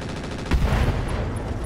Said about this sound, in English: Yeah, ammo explosion. Right there at the bottom.